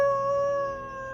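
A voice imitates a creature's loud, sustained howl, a steady tonal wail with stacked harmonics that holds for about a second before easing slightly, heard alone up close.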